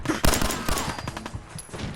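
Rapid automatic gunfire from the video game Fallout 4, a fast burst of loud shots with several sharp cracks followed by scattered quieter reports, with no talk over it.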